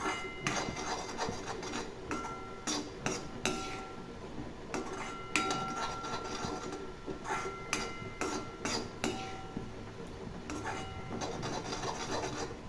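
A spoon scrapes and stirs coriander-tamarind thokku in a pan, with repeated close rasping strokes and metallic clinks in an irregular rhythm over about thirteen seconds, and no talk.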